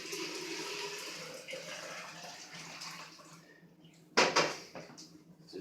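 Lukewarm water is poured in while making moonshine, a steady rushing splash that tapers off, then a brief louder slosh near the end, with a person talking over it.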